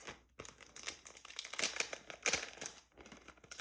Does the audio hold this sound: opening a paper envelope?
yes